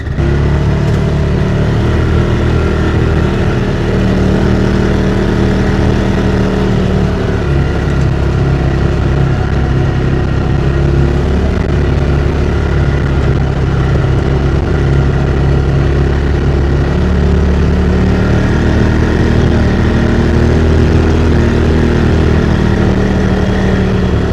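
Off-road buggy engine running steadily on a ride down to a white oak lumber yard, a continuous near drone with mild revving throughout, no talk over it.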